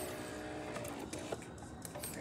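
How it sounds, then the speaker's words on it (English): A new grinder inside a Saeco Incanto espresso machine grinding coffee beans, a steady continuous mechanical whir with a rattling texture, close and moderately loud throughout. "As you can hear, the grinder is definitely grinding."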